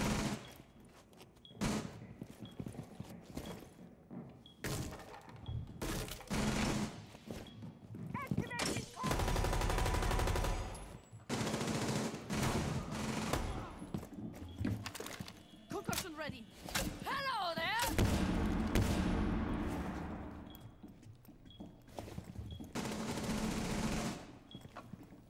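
Repeated bursts of gunfire in a tactical shooter game, Rainbow Six Siege with operator Thatcher, rattle loudly and near throughout, with rapid automatic volleys, brief lulls and a player talking over much of it.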